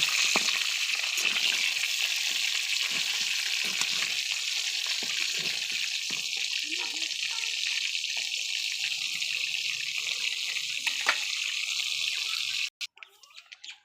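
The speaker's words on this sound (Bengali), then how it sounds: "এবার দেখেন রোস্টের মাংস ভাজা হচ্ছে" Steady hissing sizzle of meat frying in oil, continuous and close, with small crackles and clinks scattered through, cutting off near the end.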